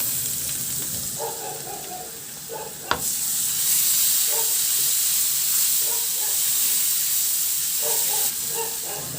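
Garlic and ginger sizzle and sauté in oil in a wok for a milkfish dish, a loud continuous frying hiss punctuated by a sharp clack early on and intermittent stirring scrapes throughout.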